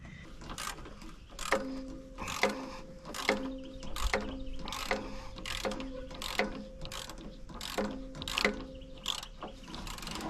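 Ratchet wrench clicking in quick bursts while loosening bolts on a Kobelco 250 excavator's muffler heat shield, repeated sharp pawl clicks at close range with short pauses between strokes.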